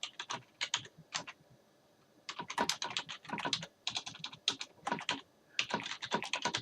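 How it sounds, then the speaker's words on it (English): Quick bursts of clicky keyboard typing, close and crisp, with a short pause partway through before the keystrokes resume. "I'm displaying my awesome typing skills."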